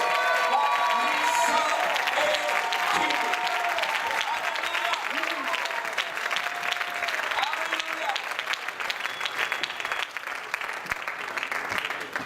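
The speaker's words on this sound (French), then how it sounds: "Est-ce qu'on peut acclamer très fort le Seigneur Jésus-Christ?" A church congregation at a French-speaking evangelical conference applauds and cheers loudly for Jesus Christ, dense sustained clapping with raised voices filling the hall throughout.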